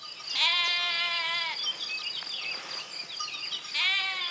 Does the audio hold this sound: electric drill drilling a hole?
no